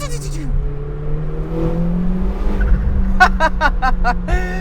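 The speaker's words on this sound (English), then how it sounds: "you can actually hear a good amount of turbo flutter when you let off the gas" A Lamborghini engine drones steadily, then a rapid series of sharp chattering bursts sounds as the throttle lifts, like turbo flutter, with some faint voice underneath.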